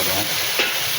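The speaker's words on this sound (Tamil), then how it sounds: "சின்ன வெங்காயம் போடுறோம்." Small onions sizzle in hot frying oil for a cauliflower gravy, a steady close hiss with a brief stir near the middle, no talking.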